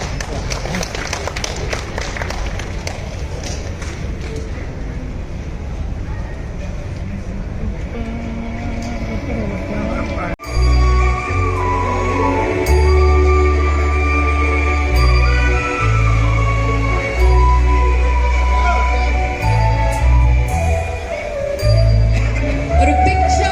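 A crowd applauds for about ten seconds to welcome the couple Kalidas and Tarini at the wedding reception of actor Jayaram's son. Loud, booming music with a heavy beat then takes over.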